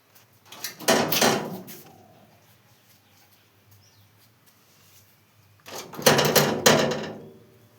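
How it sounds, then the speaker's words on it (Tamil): A dog pushes against a closed door from outside, making two bursts of rattling and thumping about five seconds apart, close and fairly loud, with quiet between them. "கதவை எப்படி தள்ளுறா பாருங்க, மனுஷன் மாதிரி."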